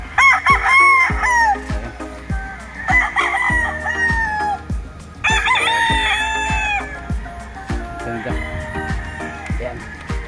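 McLean gamefowl roosters at a game farm in Tanay, Rizal crow loudly and up close, three full cock-a-doodle-doo calls in a row with fainter crowing and clucks from other birds around them.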